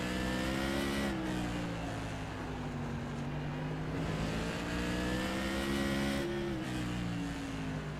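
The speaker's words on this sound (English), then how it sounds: "They're hitting 100 miles an hour down the straightaways, down to 70 in the corners." Modified race cars lap an oval track, engines droning steadily at about 100 mph on the straights and easing toward 70 in the corners, the harmonic whine rising and falling continuously as they pass.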